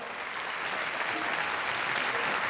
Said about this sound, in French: Voilà, on les applaudit.